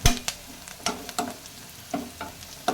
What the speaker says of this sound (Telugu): పసుపు వేయాలి బాగా కలబెట్టాలి